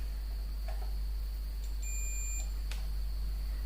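A multimeter's continuity buzzer gives a single short, high beep while a stepper motor winding is tested on a home-made mini CNC plotter, heard faintly over a low steady hum with no talking.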